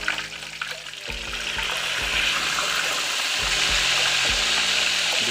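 Fish grilling in a pan without charcoal sizzles in a steady, fairly loud hiss, with a few soft knocks and scrapes of the pan around the second mark as the fish is turned over.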